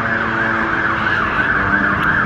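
A loud, continuous emergency siren wails in steady rising and falling sweeps, close by and alone with no voices.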